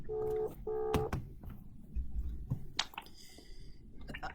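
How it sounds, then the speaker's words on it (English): A phone call being placed, with two bursts of steady electronic ringing tones near the start, followed by brief clicks and a thin high tone toward the end over a low background hum. "right, I'm ringing you."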